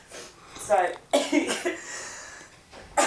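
A man lets out a few sharp coughs at a board meeting, with breathy bursts spread over a few seconds, close to the microphone, and a short spoken apology mixed in.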